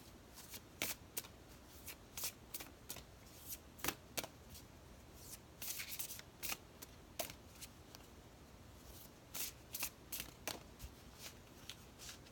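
A deck of tarot cards is shuffled up close: crisp riffles and brisk flicking bursts come in irregular clusters with short pauses between them, quiet and alone with no voices.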